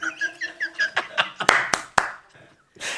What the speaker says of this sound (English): Haribol Prabhuji, you're clapping very nicely.